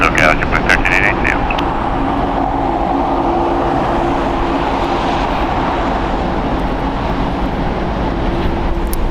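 Jet airliner departing LAX, its broadband engine roar loud and steady throughout with a low droning hum, while a voice talks over it.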